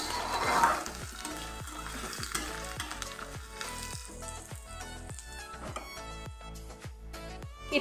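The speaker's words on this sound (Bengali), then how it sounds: "লঙ্কা, তেজপাতা আর গোটা জিরেটা ফোড়ন দিয়ে দেবো" Dried chili, bay leaf, whole cumin and crushed ginger crackle in hot oil for a banana flower ghonto, with a loud steady sizzle and a regular rhythm of spoon scrapes, up close with no voices.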